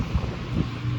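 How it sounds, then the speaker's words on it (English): Steady wind buffeting the microphone on a cruise ship deck, a low rumbling roar that fills the whole moment with gusty swells and no voices. "pardon the wind, guys. It's really windy."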